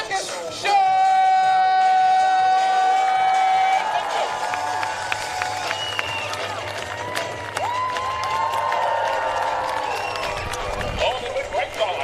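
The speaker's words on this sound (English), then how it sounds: "Please, clap your hands, make some noise, go absolutely crazy for the biggest little circus show!" A crowd at a circus show at an agricultural show claps and cheers over loud music with tonal sounds, the applause blending into a continuous wash throughout.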